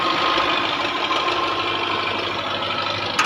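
A 2008 Belarus tractor engine idles steadily close by, a constant rumbling drone with a faint knocking texture and no speech.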